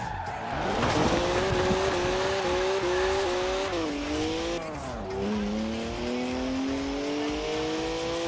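A BMW 1M with a 3-litre twin-turbo straight six drifts in the racing game Forza Horizon 4, its engine droning at shifting pitch as the tires squeal through long continuous slides, loud and close with no talk.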